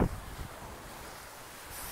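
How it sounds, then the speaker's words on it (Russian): Strong, warm wind blows along the Costa Brava seashore, a steady soft rushing buffet against the microphone with faint surf underneath and a brief gust at the start. "Ветер сильный, но теплый."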